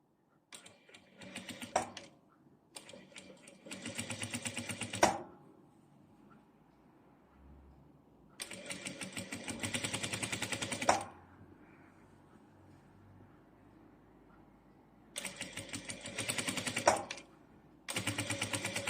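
Domestic sewing machine fitted with a rolled hem foot runs over chiffon in three separate bursts of rapid, steady stitching, with quiet pauses between runs; close and fairly loud, with no talking.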